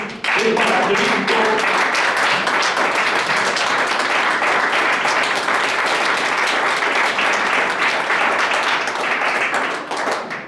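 Church congregation clapping loudly and continuously for about ten seconds, a full, close roar of hands with some voices mixed in early on.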